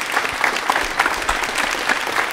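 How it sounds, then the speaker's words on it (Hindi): Studio audience applauding at a special quiz programme for Birsa Munda Jayanti and Janjatiya Gaurav Diwas, steady dense clapping sustained throughout at moderate loudness. "एक बार तालियां बजा दीजिए उनके लिए आप।"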